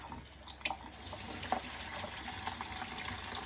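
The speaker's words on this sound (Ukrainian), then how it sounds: "Промиваємо в холодній воді, включаю водичку холодну" Cold tap water runs into a kitchen sink while cooked udon noodles are rinsed, a steady close splashing stream with a few sharper knocks and clatters from the strainer.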